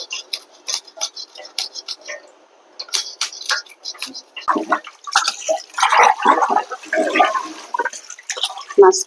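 Hilsa fish being rinsed under running water in a kitchen, with splashing and clinking of a metal bowl or pan, intermittent at first and then a steadier, busier stretch of water and handling noise.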